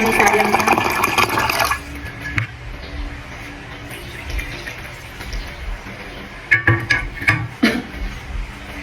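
Mineral water pours with a steady splashing rush for about two seconds, then fades into quieter trickling and a few louder sloshing splashes near the end, close up in a home kitchen.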